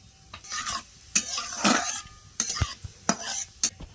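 Whole cumin seeds hit hot oil in a wok, producing bursts of sizzle among sharp metallic clinks and scrapes of a spatula stirring in an irregular rhythm.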